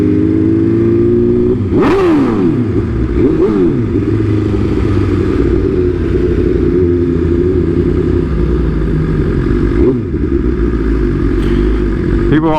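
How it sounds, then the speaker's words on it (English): A custom BMW S1000RR sport bike engine runs loud and close at a steady idle, punctuated by several sharp revving blips that rise and fall. "People are always asking for a rev, bro."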